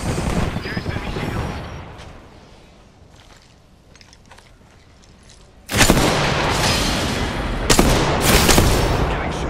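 Gunfire aimed at the player in a video game: loud, dense bursts of shots and booms arriving suddenly after a quieter stretch of low ambient noise, continuing in heavy clusters to the end.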